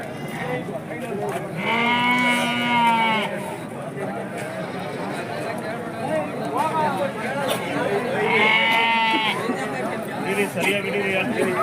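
Sheep and lambs bleat at a busy festival livestock market, two long, loud, wavering bleats close by, under steady crowd chatter and people talking throughout.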